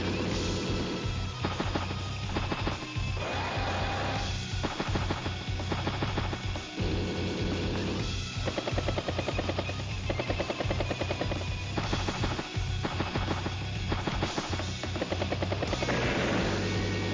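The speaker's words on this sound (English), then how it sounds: "Got another battle copter by the beast." A battle copter unit in Advance Wars: Days of Ruin, a loud game-audio helicopter rotor thumping in a fast chopping rhythm over layered music, with bursts of sound effects and no talk.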